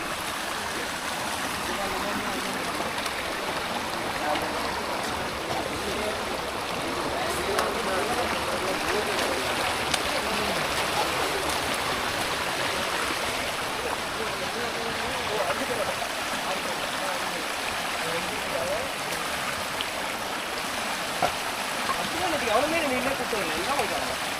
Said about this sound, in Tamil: மக்களுடைய முதல் நீரோடை நீரோட்டை இப்படி தான் இருக்குது